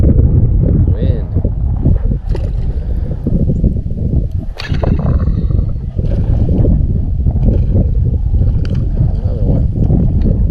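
Strong wind buffets the microphone on a kayak out fishing bass in the Texas Hill Country, a loud, steady roar that barely lets up.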